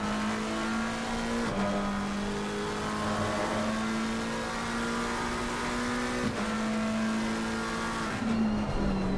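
Race cars, a Lamborghini and a McLaren, scream down the Imola circuit with sustained high engine revs, pitch rising through the gears with brief drops at each shift, loud and continuous.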